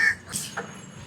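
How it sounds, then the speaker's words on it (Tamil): Crows caw a few times during a village Pongal celebration, short harsh calls at moderate distance over quiet outdoor background. "காக்கா காக்கா காக்கா கா வாங்க வாங்க"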